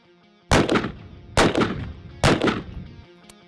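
.223 Trident rounds fired from a rifle into ballistic gel and meat: three loud, sharp rifle shots spaced about a second apart, each with a short decaying echo.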